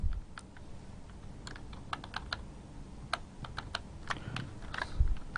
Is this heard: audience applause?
no